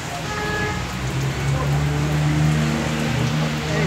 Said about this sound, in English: so it's finally raining. Look at this rain.